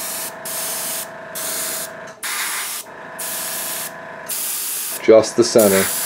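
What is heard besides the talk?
airbrush compressor running while spraying wash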